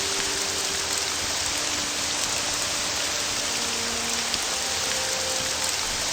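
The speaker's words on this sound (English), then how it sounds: "We should probably go inside while it's raining" Rain pours steadily in the Morrowind video game, a dense, even hiss filling the whole stretch with faint tonal hums underneath and no talking.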